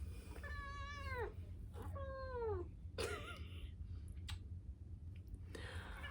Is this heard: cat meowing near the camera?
yes